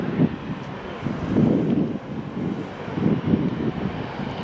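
An airliner takes off at Madeira Island Airport, a broad rumbling roar that pulses under heavy wind buffeting on the microphone. It is steady and moderately loud, with no one speaking.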